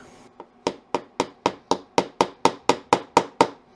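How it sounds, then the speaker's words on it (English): Thirteen sharp strikes from a tiny hammer land in a steady, even rhythm on LEGO jewellery work, each a crisp close knock with a short ringing decay, no voices. "I do actually have a tiny little hammer."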